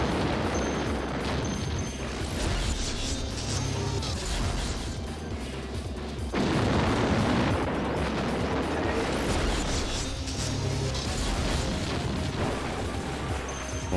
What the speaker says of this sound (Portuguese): A bomba